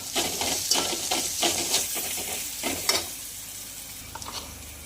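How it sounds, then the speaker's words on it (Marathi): Masala paste with crushed coriander seeds and fennel sizzles in a pan while being stirred, with close scraping strokes over a constant frying hiss. "वाटण छान परतून झाल्यानंतर यामध्ये कुटलेले धने आणि सोप घालायचे आहे"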